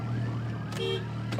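Ambulance and fire truck sirens pass nearby in a brief, steady burst of tones over a constant low hum. A short, higher wavering note stands out partway through.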